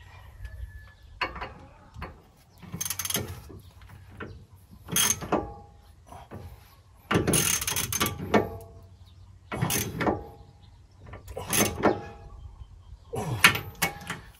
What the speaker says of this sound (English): So this is the setup I'm using: a 1/2" drive ratchet, short extension, universal 1/2" extension, and a 1/2" drive 22mm deep socket.